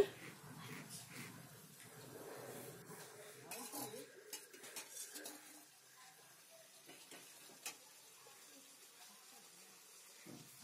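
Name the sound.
stir-frying boiled potatoes in a pan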